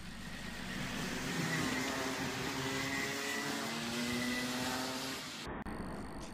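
A Mini Max racing kart drops under braking into a hairpin, its engine note falling and shifting in pitch as it slows, with other kart engines droning in the background and no voices.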